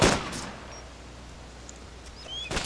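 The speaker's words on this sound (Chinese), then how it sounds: "开枪，哪里开枪？" Gunfire in the video game DayZ: a loud shot at the start, a fainter one shortly after, then another burst near the end, separated by quiet background.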